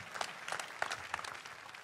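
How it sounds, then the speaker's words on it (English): A church congregation claps in a brief, fairly faint burst of scattered hand claps with a few sharper individual slaps, heard alone without speech. "Let's clap for Jesus Christ."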